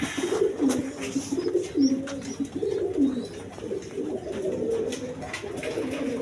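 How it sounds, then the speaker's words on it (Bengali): A pair of Gorra pigeons coos steadily in low, rolling phrases that repeat and overlap for several seconds, close by with faint background noise and no talking. "দর্শক এইখানে এক পেয়ার গররা কবুতর আছে দেখেন"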